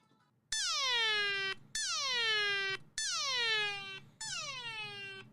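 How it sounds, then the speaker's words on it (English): A phone safety app sounds an extra-loud alarm for an unresponsive user: four long, loud rising-then-falling siren sweeps with brief gaps between them, rich in harmonics and alone in the clip. "it rings a super loud alarm if you were unresponsive for 40 seconds"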